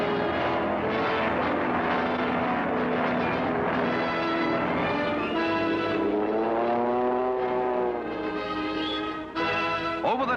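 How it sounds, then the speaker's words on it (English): World War II warplanes warm up for takeoff in wind and rain, engines droning loud and steady with tones that rise and swell, a continuous roar with no talk. "Planes warm up for a hazardous takeoff through wind and rain."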